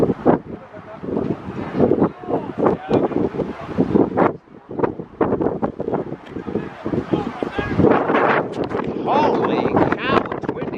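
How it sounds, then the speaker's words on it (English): Strong, gusty wind buffets the microphone at an outdoor junior gridiron football field in Canada, a loud, continuous rush under a commentator's talk. "Holy cow, it's windy."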